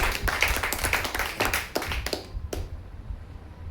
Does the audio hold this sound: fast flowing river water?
no